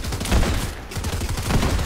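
Gunfire in a video game fight rattles in dense, continuous bursts, loud and close, with no talking over it.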